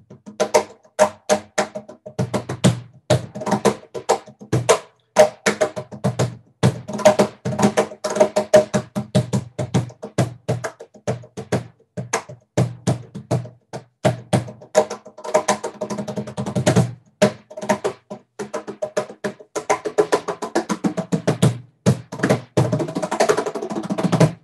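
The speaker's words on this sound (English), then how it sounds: "So this is the cajon." Cajon hand drum played by hand gives a fast, busy run of dry slaps and knocks, with deeper thumps mixed with sharper edge hits. It is close and steady throughout, with no talking.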